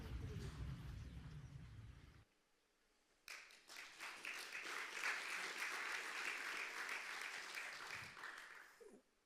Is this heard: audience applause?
yes